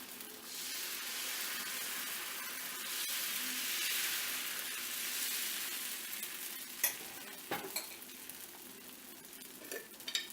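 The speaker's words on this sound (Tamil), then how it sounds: "இதே மாதிரி இன்னொரு தோசை ஊற்றுறேன்" Bottle gourd dosa batter hisses and sizzles steadily on a hot pan, a loud broad frying crackle that swells and then gives way to a few scraping clicks near the end, with no talking.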